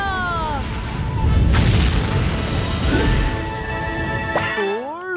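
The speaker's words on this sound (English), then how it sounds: "10, 9, 8, 7, 6, 5, 4, 3, 2, 1, blast off!" A cartoon rocket blasts off with a loud rumbling boom and roar, over a background of swooping musical tones that sweep up and down near the end.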